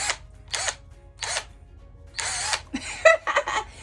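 A Vevor power tool runs in several short bursts of whirring, each lasting about a quarter second with pauses between, then a longer run and a few choppy pulses near the end, heard fairly close in a garden work setting.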